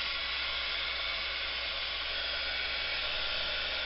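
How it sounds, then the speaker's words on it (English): An embossing heat tool blows and warms up with a steady, loud, even whoosh of hot air that carries on unbroken throughout. "Make sure you warm up your heat tool."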